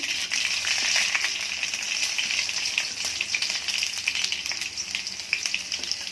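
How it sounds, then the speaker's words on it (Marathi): Mustard seeds and garlic sizzling steadily in hot oil while cooking kadhi bhaji, a constant close crackling hiss with scattered pops throughout. "आधी आपण थोडीशी मोहरी घालून घेऊया. नंतर लसूण"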